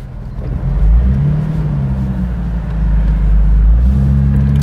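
A Jeep Wrangler TJ with the 4.0 engine drives into a roundabout, heard from inside as a loud, steady low engine rumble and drone that rises slightly as it pulls through.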